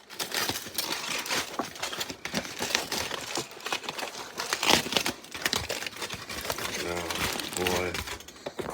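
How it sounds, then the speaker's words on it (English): Aluminum foil is peeled back and crumpled off a Costco curry chicken tray wrapped in a double layer, producing continuous dense crinkling and rustling at close range, with a person talking intermittently over it. "I think I might put too much aluminum foil on it."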